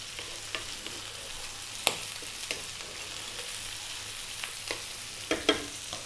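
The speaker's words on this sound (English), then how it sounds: "We're going to drop in our fresh chili as required." Fresh chili fries in a pan along with beans, giving a soft, steady sizzle with occasional sharp clinks and stirring scrapes from a utensil, quiet and close, with no talking.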